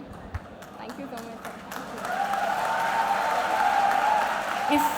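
Audience applause at a 20th Foundation Day celebration, Kautilya Gaurav Diwas, swelling into steady clapping after a couple of seconds and mixed with a sustained tonal ringing.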